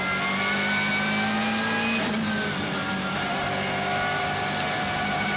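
A BMW M3 GTR race car howls at full throttle around the Nürburgring, its engine note rising steadily through the gears with a brief dip at an upshift, loud and continuous from start to finish.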